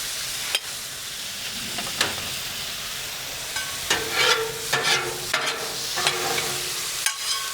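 Mushrooms sizzle in a hot pan with a splash of soy sauce beside smashburger patties, a steady close frying hiss broken by several sharp scraping stirs and spatula clacks, with no talking.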